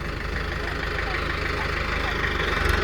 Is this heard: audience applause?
no